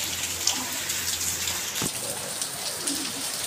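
Rainwater drips and patters onto surfaces the morning after overnight rain, a steady close spatter with scattered louder drops and one sharp knock midway.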